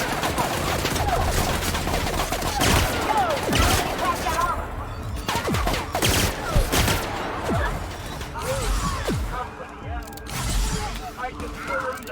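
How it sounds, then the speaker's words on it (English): Gunfire in The Outer Worlds video game, a dense, continuous fusillade of shots and impacts that runs throughout, mixed with shouted combat voices and game noise. "Open fire!"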